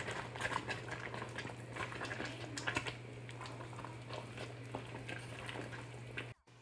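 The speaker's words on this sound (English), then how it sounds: "let's give it a nice mix" Cassava leaf being stirred in a simmering pot of Sierra Leonean soup, with soft irregular clicks and wet scraping over a bubbling, humming background.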